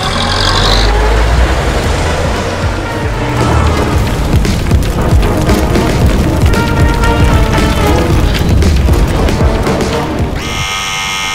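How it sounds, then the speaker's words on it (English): A loud, sustained rumbling blast with crackling debris and rattling, filling the whole stretch before cutting off abruptly at the end. "do you hear that explosion?"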